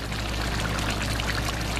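Water is poured off ground pork and beef after cooking, a steady, close splashing pour that runs throughout.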